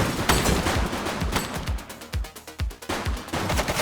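Rapid bursts of gunfire in The Precinct police game, a fast volley of sharp shots near and loud, with brief gaps between clusters and no talk.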